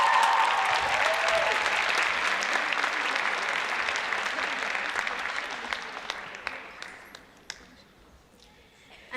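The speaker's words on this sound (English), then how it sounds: "Please give another round of applause to another Pittsburgh teacher." Warm applause from the audience at the LAASYA 2012 dance event greets a Pittsburgh dance teacher, loud and full at first, then thinning gradually into a few scattered final claps.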